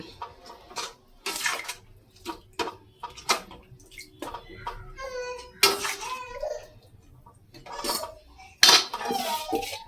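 Citron pickle is stirred in a metal pot with a spoon, producing irregular loud clanks and scrapes in uneven bursts, with a faint voice in the background between strokes.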